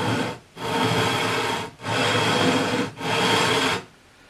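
Four even, rhythmic strokes of a flat sanding beam with 320 and 400 grit paper rubbing across the frets of a vintage Sakai/Audition electric guitar, each a loud, close, raspy scrape separated by short pauses.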